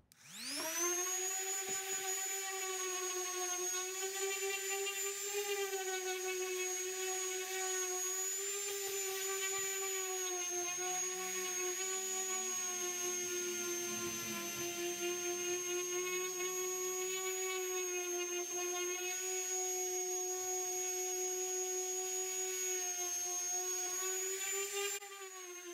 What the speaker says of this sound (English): I'm going to sand it all down and the legs